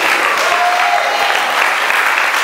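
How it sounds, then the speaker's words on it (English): A crowd claps loudly and steadily, a dense wash of applause that holds at full strength throughout. "Give that brother another round of applause"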